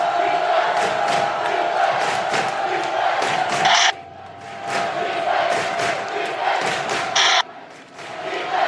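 A large crowd roars and cheers loudly in sustained bursts that cut off abruptly twice before starting up again.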